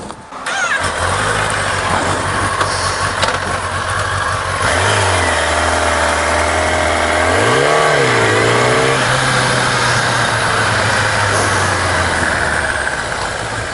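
A car engine starts, settles into a low idle, then rises in two smooth revs as the car pulls away gently on the clutch, loud and close throughout with no voices.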